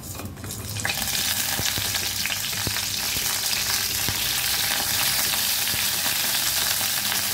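Fennel seeds frying in hot oil before crab goes in for crab masala, a loud, dense, even sizzle rising within the first second and holding steady with scattered pops and faint stirring; no talking.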